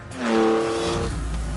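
Lamborghini Countach with a 48-valve 5.2-litre V12 in The Grand Tour video game, revving hard and climbing in pitch with a strong harmonic whine, then settling into a steady loud drone, close and alone.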